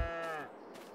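A single cow moos loudly and close in the farming video game Farming Simulator 22, a short lowing call that fades within a second.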